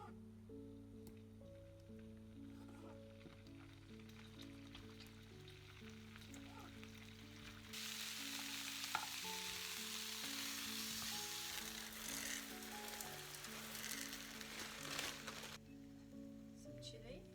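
Tomatoes roasting in a pan give a soft sizzle and crackle, growing louder and hissier midway, under a musical backing with no talk.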